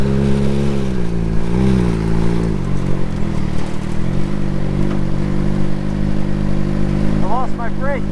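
A SHARP Mini Late Model race car engine running loud and close in a backyard, a steady rough drone with rising and falling revs, and voices talking over it.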